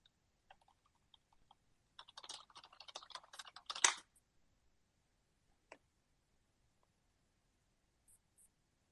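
A computer keyboard clatters with a quick burst of keystrokes in the middle, framed by a few isolated clicks before and after, quiet and close with no talking.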